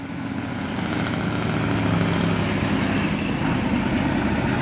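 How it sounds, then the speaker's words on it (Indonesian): A Simpati Star double-decker bus rolls past on an uphill road, its engine a steady, loud rumble that swells briefly in the middle and stays broad and continuous, with no voices. "Weh, mantap kali double decker lewat."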